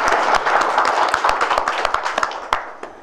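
Members of an employees' association audience clapping in thanks to their MLA, a loose burst of individual hand claps that thins out into scattered, sharper claps.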